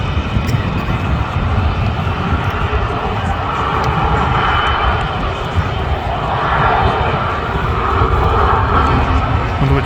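Jet airliners, including Ryanair aircraft, roar at Manchester Airport: a loud, sustained engine rumble that swells and fades slightly, with faint crowd ambience in the background.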